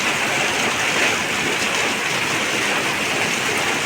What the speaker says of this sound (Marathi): कंटिन्यू पाऊस पडतो आहे